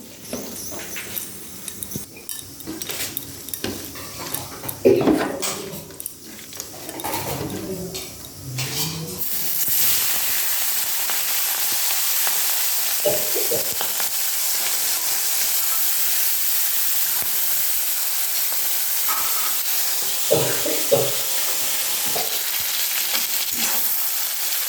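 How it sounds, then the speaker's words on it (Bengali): Oil sizzling loudly and steadily in a hot wok for a Bengali cabbage dish, after a few seconds of quieter kitchen clatter, with a few brief stirring knocks over the continuous hiss. "তারপর কড়াইটা গরম হয়ে গেছে, এর মধ্যে আমি পরিমাণ মতো তেল দিয়ে দেব।"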